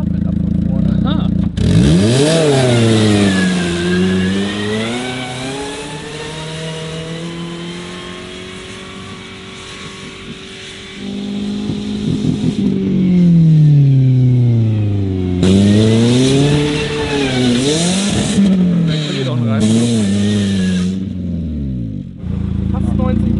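A car engine revs hard while the car is driven in reverse to warm it up, the pitch sweeping up and down in repeated loud surges with a quieter idling stretch in the middle, and people talk over it.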